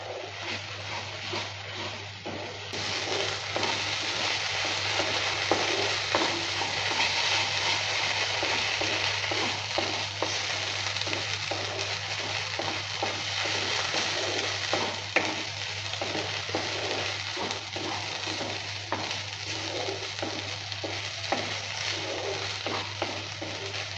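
Chichinga (snake gourd) mash with chili sizzles and fries steadily in a pan over low-medium heat, with a continuous close crackle and soft scraping stirs throughout.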